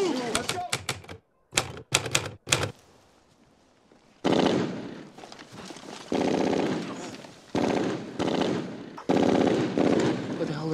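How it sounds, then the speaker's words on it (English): Gunfire in a WWII war drama series: rapid bursts of automatic weapon fire, several short volleys, a pause, then longer sustained loud rattling bursts up close. "What the hell are they shooting at?"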